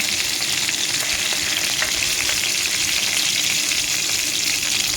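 Whole spices tempering in hot oil for shahi paneer — cumin, bay leaf, cardamom, cinnamon and cloves — give a steady, close, loud sizzle with no break across the whole stretch, and no voice over it.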